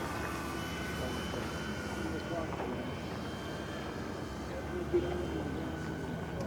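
A steady, moderately distant engine drone from a Smith DSA-1 Miniplane, a small homebuilt biplane, at an airshow for warbirds and classic aircraft; the tone holds even throughout with faint background sound.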